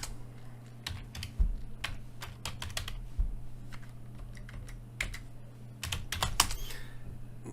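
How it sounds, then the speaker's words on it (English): Keys clatter on a computer keyboard while code is typed at a desk, a steady stream of close, crisp clicks with a few heavier thumps, alone over a faint background hum. "excuse my typing"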